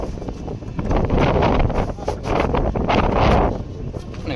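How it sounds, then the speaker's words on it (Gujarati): Strong wind on Girnar mountain buffets the microphone in loud, surging gusts that rise and fall in two main waves, roaring and close. "અને ફૂલ પવન આવી રહ્યો છે અત્યારે."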